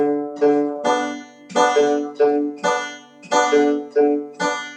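Strummed guitar chords in a steady boom-boom-tap rock pinch pattern, about nine rhythmic strokes with short decays, played alone without voices.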